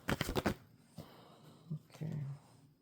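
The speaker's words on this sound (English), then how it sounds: "If more cards come out, I just shuffle them around." A quick burst of tarot card shuffling, fast riffling flutters up front, followed by quieter shuffling and a brief murmur of voice.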